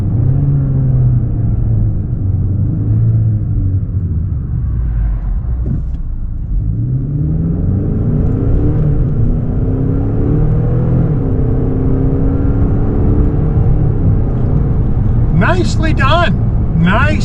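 A 2026 Genesis G70 2.5T AWD in Sport Plus pulls hard under a steady, loud engine drone that rises in pitch through each gear and drops sharply at each quick shift, with someone talking over it.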